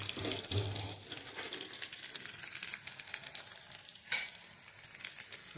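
Chopped onions hit a hot pan for a bachelor-style fish curry, giving a steady frying sizzle with stirring scrapes and a sharp hiss burst partway through; no talking.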